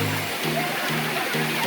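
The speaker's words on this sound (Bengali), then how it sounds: "ওইখানে ঝর্ণাটা দেখছেন।" A waterfall rushes in a steady, close wash of splashing water while a voice sounds faintly over the roar.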